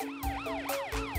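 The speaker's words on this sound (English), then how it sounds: "Hey, look, there's Matt the police car" A cartoon police car's siren wails in rising and falling sweeps, loud and close, cycling about four times in just over a second with no one talking.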